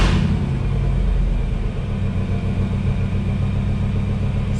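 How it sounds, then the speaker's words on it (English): A Chevrolet K1500 pickup truck's engine runs as a steady, loud, close rumble that holds even and unbroken throughout, with no one talking over it. "here it'll give you a shot of starting the truck"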